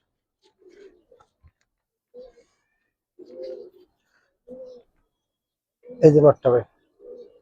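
Gribaz highflyer pigeons give several soft, scattered coos nearby, and someone talks briefly in between.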